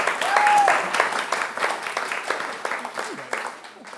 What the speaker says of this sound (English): always good to get a round of applause when you haven't done anything yet